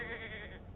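A voice imitates a she-goat's bleat with a single short, wavering, nasal cry, close and fairly quiet.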